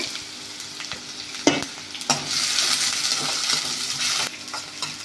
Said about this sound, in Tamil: ஒரு வெங்காயம் பொடியாக கட் பண்ணி வச்சுருக்கேன், அது வதங்கட்டும்